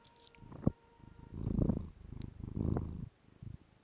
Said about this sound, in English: here she purred a little bit, and I wonder how much that picked up